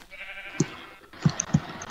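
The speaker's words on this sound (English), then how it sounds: "I have a blue sheep." Sheep in the Minecraft video game bleat in short, close bursts: one brief bleat, then two more in quick succession near the end, with no talk over them.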